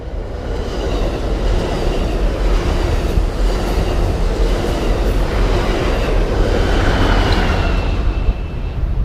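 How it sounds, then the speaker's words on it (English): A train rolls past steadily and loudly near a beach-side bike route in Ventura County, its dense rumble and rail clatter filling the whole stretch with no voices. "And not to mention trains."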